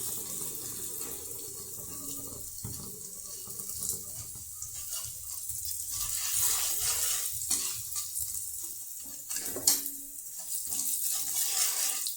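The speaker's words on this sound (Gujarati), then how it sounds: "અને મરચાંને આ રીતે તેલમાં સારી રીતે હું મિક્સ કરી લઈશ." Garlic and red chili are stirred into hot oil in a pan over a low gas flame. A soft sizzle runs underneath repeated scraping strokes of a spoon, with a few sharper clinks.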